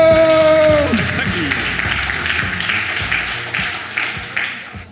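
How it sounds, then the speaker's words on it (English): A conference audience claps and applauds, a broad, fairly loud wash of many hands, while a voice speaks briefly at the start and the clapping gradually thins out. "a round of applause"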